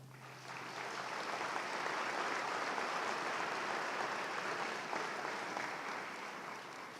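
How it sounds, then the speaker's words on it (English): A large crowd applauds at a spring commencement ceremony, a broad, dense, sustained roar of clapping that swells in, holds evenly for several seconds, then eases slightly, with no voices over it. "Please give them a big round of applause"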